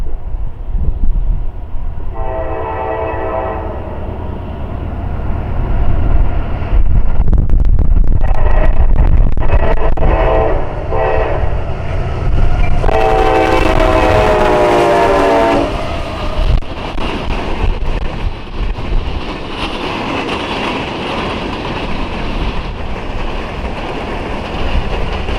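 A CSX coal train led by AC44 locomotives rolls past close by, engines rumbling loudly while the horn sounds in several long blasts, with wheels clacking over the rails as the cars pass.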